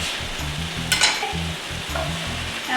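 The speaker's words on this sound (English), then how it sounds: "Let's go ahead and add our beets to the skillet." Beets going into a hot oiled skillet for Ukrainian borscht give a steady close sizzle, with repeated scraping stirs in a loose rhythm and a brief clatter near the middle.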